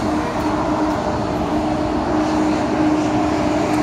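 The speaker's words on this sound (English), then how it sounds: "all those buses are so noisy. They are all crappy buses." Loud, steady rumble of city buses passing in a street, a continuous droning engine roar with a faint tonal hum running throughout and no voices.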